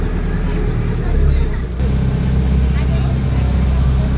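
A tourist boat pulls away on an outing to the Buddha statue in Hyderabad, its engine giving a steady, close, low rumble that swells briefly, with crowd chatter mixed in throughout.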